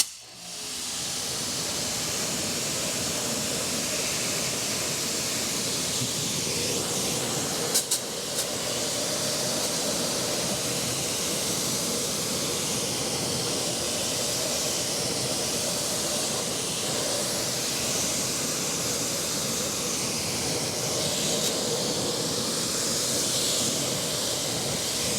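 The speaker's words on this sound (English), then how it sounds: "So let me get the pressure washer out." A pressure washer rinses car wheels during an iron-remover wheel and paint decontamination, giving a loud, steady spray hiss that runs unbroken and close throughout, with no talking.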